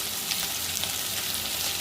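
Chopped onion, carrot, tomato and green chilli frying with tempering spices and a pinch of turmeric, a steady, close, fairly loud sizzle that hisses evenly throughout without a break.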